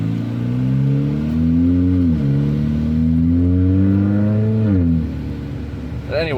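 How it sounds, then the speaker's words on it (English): A loud car exhaust roars past close by, its engine note rising and falling in pitch over several seconds before fading, with a short revving whine at the end; no talking is heard. "Damn, that exhaust is loud."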